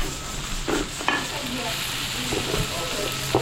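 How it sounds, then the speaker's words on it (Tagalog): Beef sautéing with garlic and onion in a pan during catering cooking, a loud, dense, continuous sizzle with a few scraping stirs, close by and without speech. "papapulayin ko lang itong bawang sibuyas. Tapos lalagay na natin yung baka natin"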